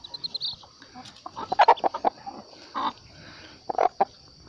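Newly hatched free-range chicks give bursts of soft clucking and peeping, close by, with quiet pauses between calls and no talk.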